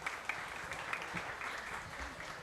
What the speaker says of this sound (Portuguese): E uma salva de palmas, por favor.